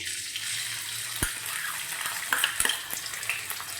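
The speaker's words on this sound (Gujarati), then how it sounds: "તમે જોઈ શકો છો કે આપણું તેલ ગરમ થઈ ગયું છે આપણે તેમાં લીલા મરચાં અને આદું વાટેલો નાખી દઈશું" Green chilies and crushed ginger sizzling in hot oil for tuvar paratha, a bright hissing fry with a few sharp pops and clicks, steady and close with no voices.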